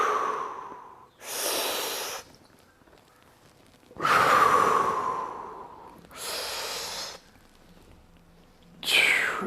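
Slow, deep breathing during a yoga stretch with knees brought down, loud airy inhales and exhales alternating in long drawn-out breaths, close and otherwise quiet.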